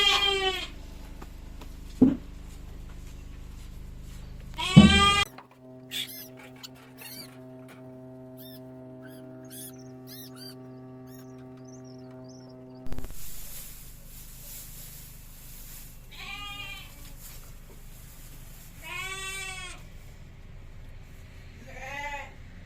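Sheep on a farm let out loud, close bleats in bursts, a few calls early on, then a quiet stretch with a steady mechanical drone, and then repeated wavering bleats near the end.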